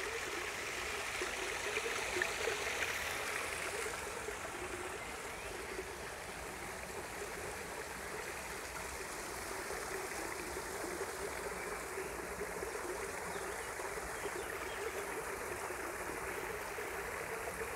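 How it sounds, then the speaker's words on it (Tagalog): A shallow stream in Oberlaa Kurpark flows steadily nearby, its even rushing and bubbling continuing without a break. "Nakaka-relax po yung tunog ng tubig."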